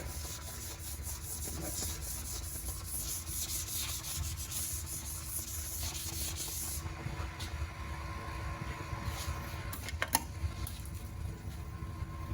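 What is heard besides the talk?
sanding single-stage green metallic paint with 3000 grit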